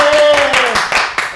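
A few sharp hand claps land close together in a short burst, mixed with a sustained voice during comedic banter about a Pakistan cricket match.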